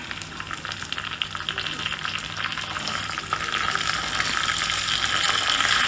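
Shallots and curry leaves fry in hot oil for a Nagercoil-style varutharacha fish curry, a steady close sizzle that swells slightly louder toward the end, with no talking over it.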